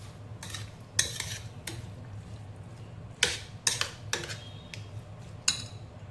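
A spoon clinks and scrapes against a bowl while soybean salad is mixed, with scattered sharp knocks at an uneven pace over a low background hum.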